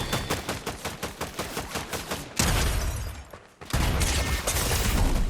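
Rapid, evenly spaced gunfire rattles close and loud in the video game Fortnite. It gives way to a heavy, roaring blast of noise that dips briefly and then surges back.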